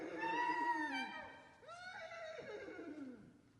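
Several horses neigh and whinny loudly in a radio drama, suggesting a four-horse caleche drawn up on a mountain pass road. Two long, wavering whinnies follow one another closely, with no talk over them.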